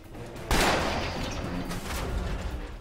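Gunfire aimed at counterweight locks in Afterfall: Insanity: a sharp, loud shot bursts out, its echo trailing off, followed by another fainter report near the end.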